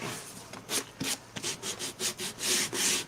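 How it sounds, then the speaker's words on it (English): Sandpaper rubbed by hand over paper to remove excess, a quick series of rhythmic back-and-forth scratchy strokes, close and clear with no talk. "So I'm just sanding off the extra paper."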